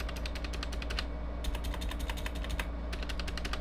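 Someone types on a Razer Huntsman Mini keyboard with clicky contactless optical switches. Rapid bursts of sharp, close clicks come in quick runs, broken by a short pause, over faint background hum.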